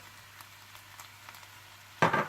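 Green chilies and julienned ginger dropped into hot oil in a pan for aloo gobi. A sudden loud, close sizzle bursts out after a quiet stretch and stays strong to the end.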